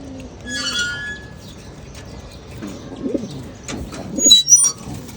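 Pet pigeons in a loft give soft, low cooing calls in short bursts, with faint chirps and light rustling nearby and a louder pair of coos near the end.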